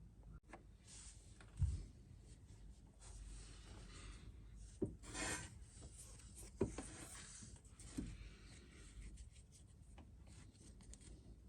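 Debris scraped off the crank pulley splines of a Volvo 2.4 D5 diesel engine, giving quiet, intermittent rubbing and rasping strokes with a few sharper knocks, close by and alone.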